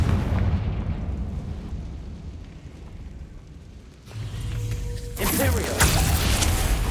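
Confringo spell explosion in the video game Hogwarts Legacy: a low rumbling build followed by a sharp, loud burst near the end, over continuous game background noise.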